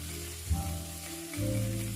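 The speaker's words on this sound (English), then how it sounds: "we are pan frying Mr. Basa fish" Basa fish sizzling and frying in a hot pan, a steady close crackle with a low hum underneath, no talking.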